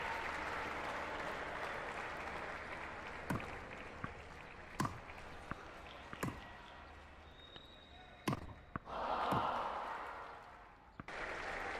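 Crowd noise in a VR tennis esports game arena, with steady cheering and applause mixed with sharp ball hits and thuds, plus a swell of cheering near the end.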